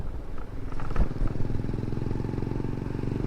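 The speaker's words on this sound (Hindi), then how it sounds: "और ये हैवी बाइक आ रहा है सामने" A heavy single-cylinder 250 cc Valentino motorcycle passing close on a market road, its low throbbing engine loud and steady, with a brief clatter near the start.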